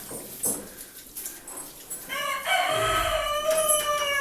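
Chickens cluck softly at first on a snowy farmyard, then a rooster crows loudly and close in a drawn-out, harmonic call.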